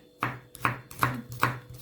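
Four crisp knife chops on a cutting board as garlic cloves are cut for stuffed tripe, evenly spaced and close, with no talking.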